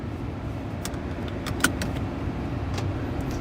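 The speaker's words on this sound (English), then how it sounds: "My truck likes doing cameos on the streams too. He likes to have his voice heard." A pickup truck pulling away on a drive, its engine a low, steady hum with a few sharp clicks and jingles on top, one louder click near the middle; no talking.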